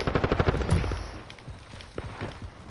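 Rapid automatic gunfire from a competitive video game shooter match, a dense run of loud shots in the first second that thins into scattered, quieter bursts.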